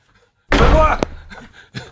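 During a live radio show, a heavy studio door is slammed, a sharp bang cutting through a loud burst of rustling and movement, followed by quieter shuffling.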